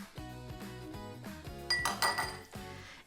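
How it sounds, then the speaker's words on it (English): Metal spoon scraping sticky melted-marshmallow mixture inside a pan, producing a run of rhythmic clinks and scrapes that grow louder and sharper partway through, close by and without voices. "Then I take a spoon, scrape off this excess here, because it's sticky with the melted marshmallows."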